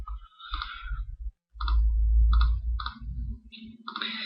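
A computer mouse clicks during a software design session building class models, giving several sharp, separate clicks over a low steady hum.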